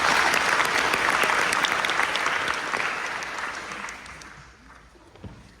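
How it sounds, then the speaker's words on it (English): Audience applause at a high school graduation ceremony, a full wash of many hands clapping that gradually fades and thins out toward the end, leaving a few scattered claps. "let's give her a round of applause"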